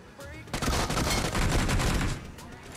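Rapid automatic UMP submachine gun fire bursts in the BGMI battle royale game, a dense, close rattle of shots lasting about two seconds after a brief quiet lead-in.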